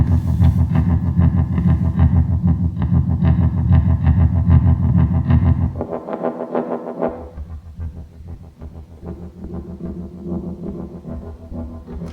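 Roland SH-4D synthesizer playing a dense, buzzing sequence through a harsh distortion effect, loud and continuous, with the low end dropping out briefly midway before the gritty pattern carries on thinner.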